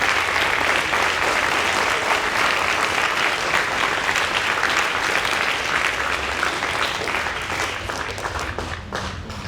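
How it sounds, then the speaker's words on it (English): A large audience at a middle school prize day ceremony claps for the faculty in a dense, steady applause that stays loud and continuous, easing only slightly near the end. "I was going to wait for the applause there, but thank you."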